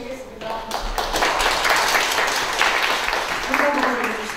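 Audience applause at the founding general meeting of the Ulsan Lifelong Educators Association, a dense, steady clapping from a crowd in a hall lasting several seconds, with voices faintly mixed in.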